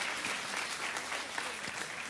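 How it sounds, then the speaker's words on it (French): Church congregation applauding, a steady, moderately soft patter of many hands clapping together without a break. "Si vous applaudissez, applaudissez pour de vrai"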